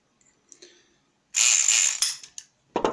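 A Kronos pick gun working a cheap five-pin lock with standard pins, giving a burst of rapid mechanical rattling and ratcheting, then a few separate clicks and a sharp final clack, close and alone.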